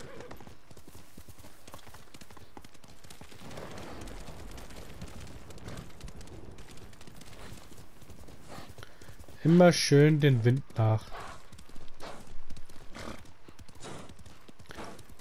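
Steady clip-clop of horse hooves in the video game Ghost of Tsushima runs throughout under someone talking; partway through, a horse lets out a loud whinny.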